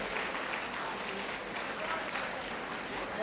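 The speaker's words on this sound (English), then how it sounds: "Give her a big round of applause." An audience at a bank retirees' federation conference in India claps in steady, sustained applause that fills the hall from start to finish, with voices faintly mixed underneath.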